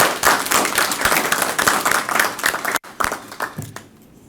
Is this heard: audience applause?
yes